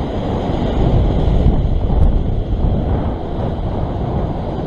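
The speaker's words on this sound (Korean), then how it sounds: "다시 너울성 파도." Heavy ocean swell rolls against seaside rocks in a steady, loud wash of surf and wind noise, continuous and roaring throughout, on a wave-heavy fishing day on a rocky shore.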